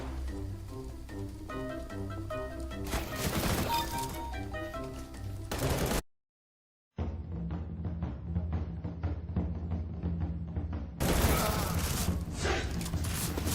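Gunfire in the video game Counter-Strike: Global Offensive, with sharp shots and bursts rattling over constant game noise and music, broken by a second of silence midway.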